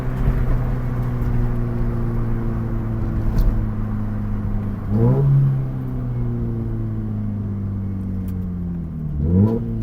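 A Scion FR-S sports car accelerates from inside the cabin, a loud steady engine drone climbing in pitch, dropping sharply at two gear shifts, then building again.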